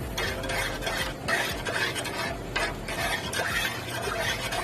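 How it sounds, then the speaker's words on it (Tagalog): Thick purple yam ube halaya mixture stirred in a pan on the stove, continuous close scraping and sloshing strokes with a faint sizzle underneath. "Then, saka natin siyang haluin."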